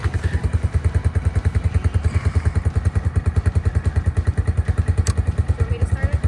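A small motorcycle engine idles while warming up, a loud close putt-putt pulse firing in a fast, even rhythm throughout, with a brief higher clank near the end.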